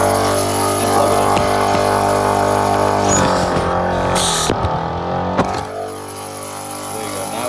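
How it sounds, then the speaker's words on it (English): An EZFLATE Moab portable air compressor runs steadily while airing up several vehicle tires at once, a loud continuous motor drone with a brief shift in tone midway and no talking. "So you just flip on the compressor and plug it in."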